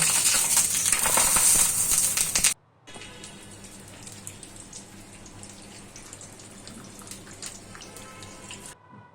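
Spiced masala tea with ground spices is poured through a strainer in a loud, rushing splash for about two seconds, then a quieter trickle and faint drips continue afterward.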